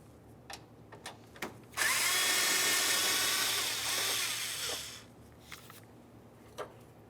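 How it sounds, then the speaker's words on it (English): A power tool spins out an 8mm headed bolt from the fender liner of a Mercury Grand Marquis in one sustained, close, loud burst of about three seconds, with light clicks and handling noises before and after. "let's remove our 1 8mm headed bolt."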